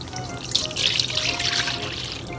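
Half water, half milk, 500 ml in total, poured as a steady, close trickling stream with a bright splashing hiss for about two seconds and no voices.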